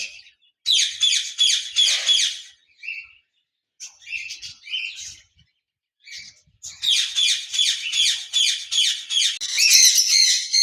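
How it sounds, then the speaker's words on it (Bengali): Two large male lutino pet birds squawking and chattering in harsh, rapid bursts, loud and close, separated by short silent gaps. "এখানে দেখতে পাচ্ছেন লুটিনো অফলাইনের 2টি মেল পাখি রয়েছে।"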